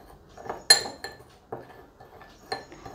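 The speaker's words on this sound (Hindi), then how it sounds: "अब कॉफ़ी पाउडर और हनी को अच्छे से मिक्स कर लीजिए।" A spoon stirs coffee powder and honey together in a bowl, giving a few sharp, close metallic clinks against the bowl among soft scraping, spaced irregularly.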